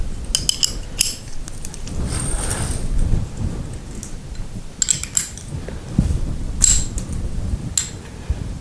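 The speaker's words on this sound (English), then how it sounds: "We'll grab our wrenches and we'll just take it apart." Wrenches clink and rattle against metal fittings while a garage door spring's hardware is loosened, with scattered sharp metallic taps and scrapes close by over a low background hum.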